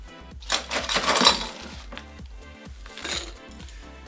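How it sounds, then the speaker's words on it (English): Ice cubes dropped into a cocktail glass while making an El Diablo drink: two bursts of clinking and rattling, close and clear, the first longer than the second, with no talk. "While I have the ice out, let's go ahead and add a little to our glass."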